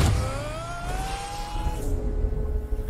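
Racing car engine revving in a Super Mario Bros. Movie trailer, a loud whining acceleration that climbs in pitch, then cuts into rumbling race action.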